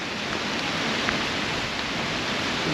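Heavy rain pours down at Lake Annecy in a dense, steady hiss, loud and unbroken, with no voices.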